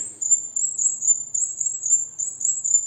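A high, thin chirping trills in a steady, continuous rhythm, close and clear over an otherwise quiet background.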